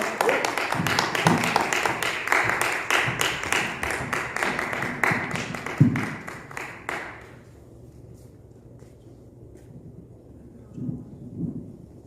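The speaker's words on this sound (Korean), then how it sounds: "나오실 때 우리 큰 박수로 맞이해 주시겠습니다" A crowd at a Korean church youth gathering applauding a speaker onto the stage, dense clapping for about seven seconds that then stops abruptly, leaving quiet room tone and a few faint sounds.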